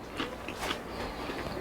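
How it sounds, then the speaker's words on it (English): Close chewing of a crunchy crouton in a salad eaten alongside reverse-seared strip steak, several crisp bites and crunches in quick succession. "Crouton still got some good crunch to it."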